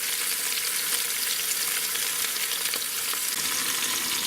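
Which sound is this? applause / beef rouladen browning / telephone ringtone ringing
beef rouladen browning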